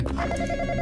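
A telephone rings steadily inside a graveyard-keeper horror game set at night, its tonal bell filling a brief moment alone at moderate loudness without any talk over it.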